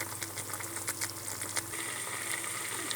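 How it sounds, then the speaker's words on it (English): Ghee simmers in a pan for masala ghee, giving off a soft, continuous crackling fizz of small bubbles popping close up, with no talking. "It's been 5 minutes now that it's bubbling."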